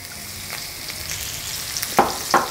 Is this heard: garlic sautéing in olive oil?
yes